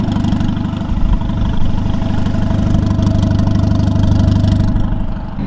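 Engine of a turbocharged car with an automatic transmission held high and loud during a burnout, giving a steady droning roar with slight wavering and no talk.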